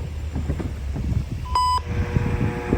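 A CN railway wayside defect detector beside a level crossing in the Parry Sound area gives a single short electronic beep, sounding over low rumbling outdoor background noise.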